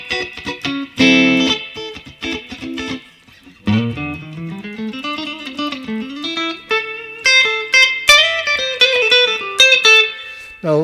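A Fender Esprit Robben Ford electric guitar played through its neck pickup in single-coil mode, picking lead lines and bends with a slightly driven tone, loud and clear with no talking.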